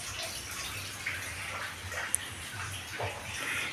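Mountain water running continuously into a toilet at a riverside campground, a steady rushing splash with a faint chirp overhead.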